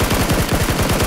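A SCAR rifle with a 4x scope fires in PUBG, a rapid, evenly spaced string of loud, close shots that runs without a break for about a second.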